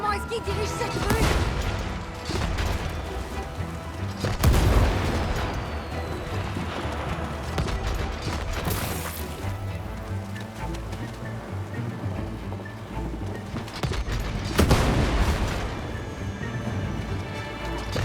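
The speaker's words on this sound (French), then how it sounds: "Un boulet de canon! Bouge!" Booming cannon blasts in the video game It Takes Two, with loud impacts around the start, middle and end over a busy bed of rumbling effects and music.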